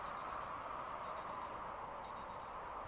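A giant alarm clock rings in the video game Superliminal, sounding as bursts of rapid high bell-like pulses, about four strikes per burst, repeating roughly once a second over a steady background hum.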